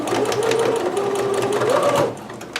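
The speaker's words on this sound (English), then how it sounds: "I'm just going to match up that seam and then backstitch." Close, loud sewing machine stitching a kimono seam, with a steady motor whine and rapid needle chatter for about two seconds before it stops abruptly, including the backstitch.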